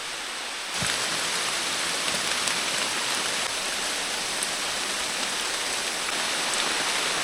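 Heavy rain pours down in a dense, steady hiss that starts abruptly and continues loudly without pause, with no voices.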